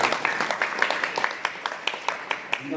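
Audience applause at a bhajan programme in an ashram: scattered, uneven hand claps from a small gathering, sharp individual claps with a slightly loose rhythm, moderately loud and close.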